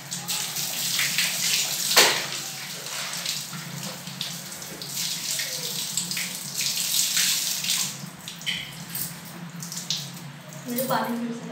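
Water runs steadily from a tap with a broad hissing rush, a brief louder splash early on, and a faint voice in the background.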